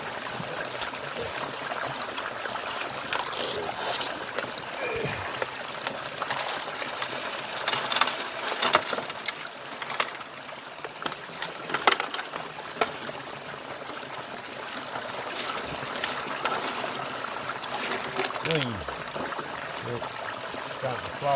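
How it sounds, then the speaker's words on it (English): Water streams steadily through a gold prospecting sluice on a mountainside, a continuous broadband rush and trickle with occasional splashes and knocks, close and fairly even throughout. "We've got a fair bit of water flow through it"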